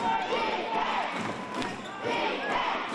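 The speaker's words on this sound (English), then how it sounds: "You can hear the crowd there, locked in here at the Edgar Center." A basketball crowd roars inside the Edgar Center during a professional game, with a swelling, surging wash of cheering voices, sneaker and ball noise, and rising and falling intensity.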